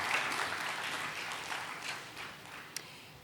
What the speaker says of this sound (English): Deserve a round of applause, don't they?